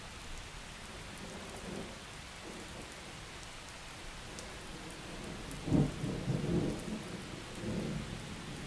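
Rain falling steadily in the video game Miscreated, with low rumbles of thunder throughout and a louder, closer thunder crack rolling in about two-thirds of the way through.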